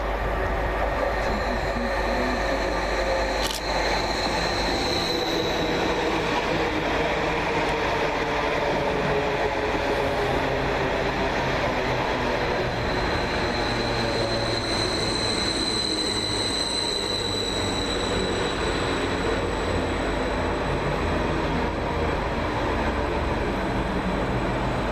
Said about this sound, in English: 745005 arrives with the 1517 Greater Anglia Stansted Express service from Stansted Airport to London Liverpool